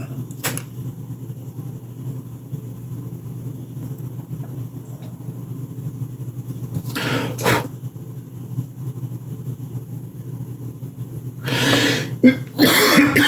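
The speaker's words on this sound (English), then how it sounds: "this freaking cough is driving me nuts" A few short, harsh coughs break through a steady low hum, with a longer coughing fit near the end.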